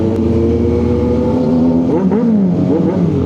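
A car engine hums steadily nearby, then its pitch swoops up and down in a couple of quick revs toward the end.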